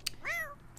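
A single short cat meow in The Sims 4 veterinary clinic, clear and moderately close, preceded by a brief click against a quiet background.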